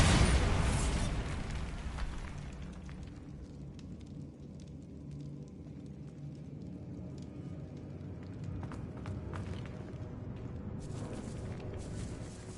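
A Bombarda spell detonates in Hogwarts Legacy, a loud burst right at the start that decays into rumbling debris and crackling, followed by scattered pops and a faint background hum.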